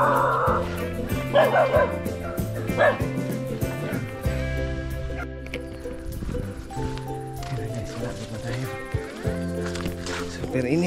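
Dogs barking near a rural path in Palawan, loud repeated barks, yips and whimpers coming in bursts, with people talking over them and a strong music-like tonal background.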